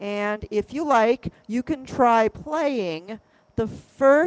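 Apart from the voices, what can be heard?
No distinct noise like a dog, phone or traffic.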